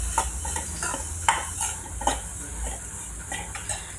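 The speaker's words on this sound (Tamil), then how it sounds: "இப்போ பீட்ரூட் பொரியல் ரெடி ஆகிட்டுருக்கு" Beetroot poriyal stir-fry being stirred in a pan, with irregular scraping and clinking of the spoon against metal over a soft sizzle, close and moderately loud, no talking.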